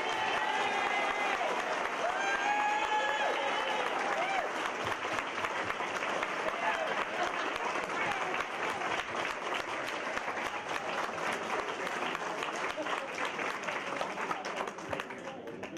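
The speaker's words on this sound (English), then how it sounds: "I want you please to give them a sincere round of applause" A sincere round of applause from the audience at a community transport organisation's celebration day, sustained clapping throughout with some faint voices and tones mixed in early on.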